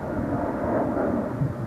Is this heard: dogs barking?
no